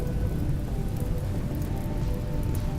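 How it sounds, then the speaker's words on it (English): Steady rain falls continuously in the video game RimWorld, a dense, even hiss with a low rumbling undertone, loud and unbroken with no talking. "here comes the rain"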